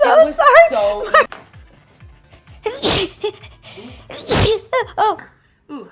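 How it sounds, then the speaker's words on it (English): Two loud, sharp human sneezes burst out close up, a second or so apart, surrounded by chuckles, gasps and bits of talk. "Ooh, I think I'm gonna sneeze."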